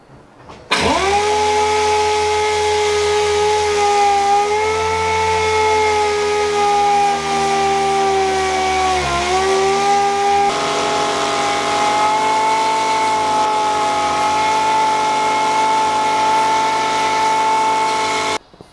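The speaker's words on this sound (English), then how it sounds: "then sanded the faces using my new air sander" A pneumatic air sander starts up and runs continuously at close range, sanding oak faces, a loud steady whine with a slight pitch dip midway.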